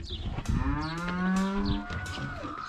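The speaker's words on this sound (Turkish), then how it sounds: "Hayvanlarımız bağırıyor." Cattle on a Turkish village farm moo in a long, drawn-out call that rises and sags, fairly close, with clatter and other farm noise around it.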